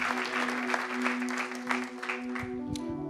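Church congregation clapping together in a steady, dense wash of applause that fills the space, with a sustained tone, likely organ or keyboard, running underneath throughout.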